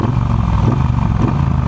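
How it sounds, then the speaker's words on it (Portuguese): Triumph Bonneville Bobber motorcycle on its original exhaust, a loud, steady low engine rumble close by with a slight rise in revs and no talking. "eu tô inconformado com o som dessa moto, com o escape original"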